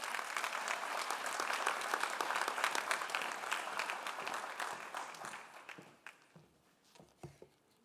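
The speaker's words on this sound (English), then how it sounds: "Please welcome her with a big round of applause." A large audience at a university chancellor investiture ceremony gives a big round of applause, loud and sustained for several seconds before tapering into scattered, fading claps near the end.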